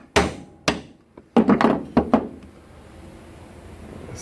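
A hammer taps a seal down into a hydraulic cylinder, giving roughly seven sharp, close knocks in an uneven rhythm, including a quick cluster in the middle, then falls quiet.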